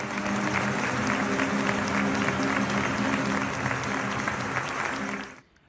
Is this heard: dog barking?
no